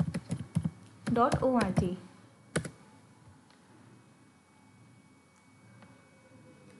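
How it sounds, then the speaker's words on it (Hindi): Someone types a web address for a school's online admission form on a computer keyboard. Sharp, close key clicks come in short bursts, with a brief voice speaking between them before a quieter stretch. "इसके लिए सबसे पहले आपको अपने URL में टाइप करना होगा"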